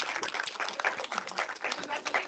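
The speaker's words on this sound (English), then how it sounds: "So big round of applause." A graduation ceremony audience gives a short burst of applause, with quick, fairly soft clapping that lasts about two seconds.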